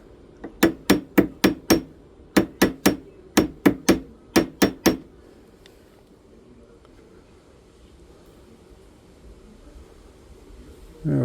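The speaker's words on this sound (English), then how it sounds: "Where's the ball peen hammer at again?" Ball peen hammer tapping on a metal part, about fifteen sharp, ringing metallic taps in quick groups of three to five, close and loud, followed by several seconds of quiet room noise.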